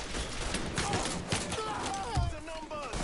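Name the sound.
gunfire in the video game Mafia III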